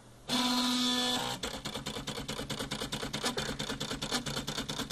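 An Arduino-driven dot matrix printer built from CD drive parts runs with a steady whine at first, then settles into a rapid, regular stepping buzz as the print head works, close and fairly quiet with no talk.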